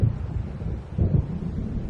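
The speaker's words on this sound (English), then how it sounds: "It seems there's a storm coming." Thunder from an approaching storm in Alan Wake rumbles low and deep in two heavy swells, with wind noise behind it and no voices.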